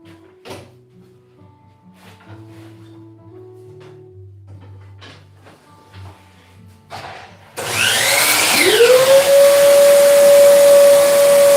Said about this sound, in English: I'm gonna come over here quickly with miter saw and do that